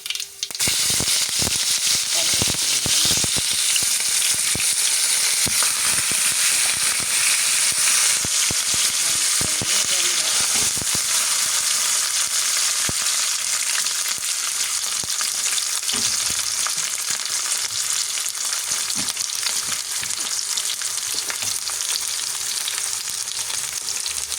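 Fenugreek seeds crackle and pop in hot oil for a South Indian tomato and chili kuzhambu, a steady loud sizzle with dense sharp popping throughout, close up and without talk.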